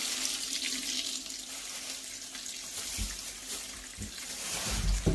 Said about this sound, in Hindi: मैं सिंक में पानी डाल लेती हूँ